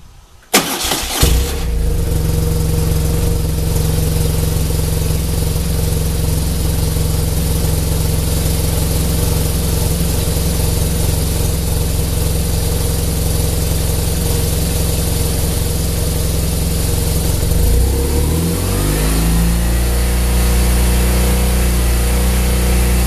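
A BMW motorcycle engine cranks and catches, then settles into a loud, steady idle that shifts pitch slightly near the end, with no talking.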